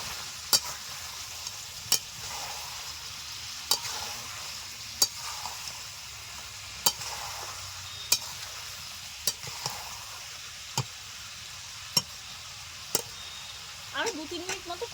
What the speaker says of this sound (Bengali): আলু গাজর দেওয়ার পর খুব ভালো করে কষে নিয়েছি